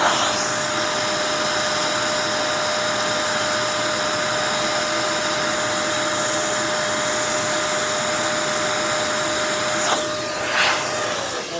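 XPOWER canister blower switched to its high setting, a loud steady whirring roar with a constant motor whine, held close and running alone, with a brief shift in airflow near the end.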